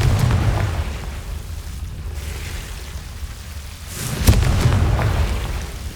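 A Confringo fire spell is cast in Hogwarts Legacy, a roaring, rumbling blast with low booming texture that dips midway, then a sharp crackling burst near the end, loud and close with no talk.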